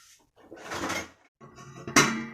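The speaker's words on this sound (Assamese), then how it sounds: "এতিয়া মই ঢাকনখন মাৰি দিম।" A lid goes onto a wok (kerahi) of simmering wild greens for a medicinal fish curry, with faint scraping handling sounds and then a single sharp metallic clink close by.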